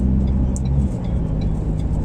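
A 2021 Ford Ranger accelerates on the road, its engine a steady low drone heard from inside the cabin, constant and fairly loud with road noise throughout.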